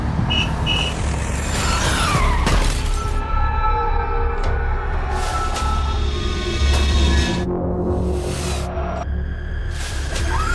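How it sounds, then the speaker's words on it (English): A car's tires screech against pavement as it swerves violently toward a crash into a construction truck, an animated sound effect: harsh squealing tones and loud, dense road noise and heavy vehicle rumble fill the whole stretch without talk. "I heard the tires screeching against the pavement, the car jerking violently as Jaden swerved"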